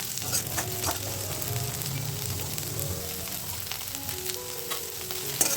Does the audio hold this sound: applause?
no